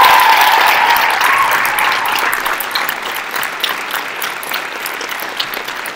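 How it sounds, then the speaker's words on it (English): Audience applause at a high school winter showcase, a dense, loud wash of many hands clapping that continues steadily for the whole stretch and tapers only slightly toward the end, with no talk over it. "please give them a big round of applause"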